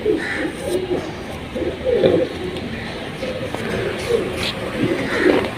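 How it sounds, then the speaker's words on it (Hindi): Champion-breed pigeons coo softly and repeatedly nearby, their low burbling calls rising and falling over a steady background murmur. "ये हमारे आपने बनाए हुए कबूतर हैं जी।"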